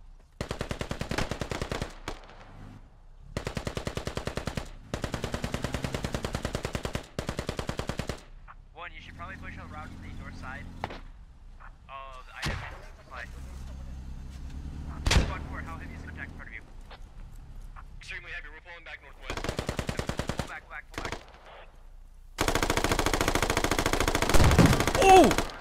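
A .50 caliber machine gun in the Squad video game battle, long loud bursts of rapid automatic fire broken by pauses, with single gunshots, explosions and other combat noise scattered between the bursts.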